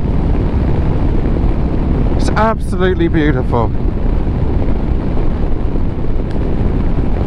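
Royal Enfield Meteor 350 motorcycle engine running while riding, a steady low rumble mixed with heavy wind rush, with someone briefly speaking over it partway through.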